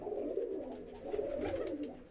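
Pigeons of one breed sitting together in a row softly coo in a steady, low murmur that runs on continuously without a break, close by and moderately loud.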